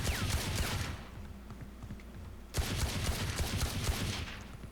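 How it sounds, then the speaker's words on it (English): Sheriff sidearm from a shooter video game firing through a wall: a loud rapid volley of shots, a pause of about a second and a half, then another dense burst of shots. "I don't know if you can shoot through this wall."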